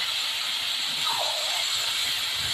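Spice paste fries in hot oil for smoky chicken, making a continuous close, even sizzling hiss with a faint scrape partway through.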